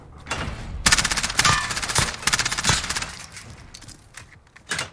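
Rapid gunfire in a first-person shooter game, bursts of automatic fire with a few single shots, loud and close with metallic shell-casing clinks between bursts and no talking.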